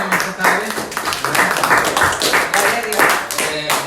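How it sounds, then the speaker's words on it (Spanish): A church congregation at an evening service claps for visitors, with uneven bursts of many hands and voices talking and calling out over the clapping throughout. "Vamos a dar un aplauso"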